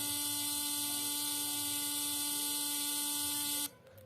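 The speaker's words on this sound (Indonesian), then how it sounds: "jadi untuk rangkaian bel sendiri akan bekerja" A steady alarm bell buzzer driven by a comparator circuit drones loudly and continuously, then cuts off abruptly near the end, leaving faint room noise.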